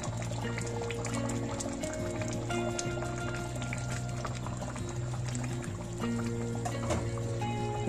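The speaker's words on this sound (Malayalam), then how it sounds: "നമുക്ക് ഇതിലേക്ക് കുറച്ച് തേങ്ങാപ്പാല് നമുക്ക് ഒഴിച്ചു കൊടുക്കാം." Coconut milk is poured into a simmering Kerala-style duck curry, a steady liquid bubbling and pouring sound that runs continuously at moderate volume.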